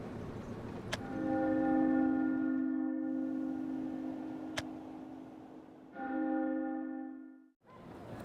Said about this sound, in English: the final bells doth herald our doom